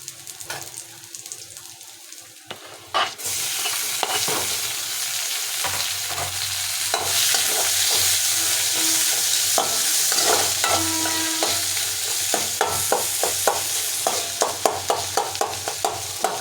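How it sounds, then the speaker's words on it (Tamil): Tomatoes and green chillies sauté in a pan for Tamil-style egg rice, muttai sadam: a steady close sizzle with repeated scraping, clinking stirs of a spoon against the pan, starting quieter and growing busier after a few seconds. "தக்காளி நல்லா வதங்கணும் ஃப்ரெண்ட்ஸ்"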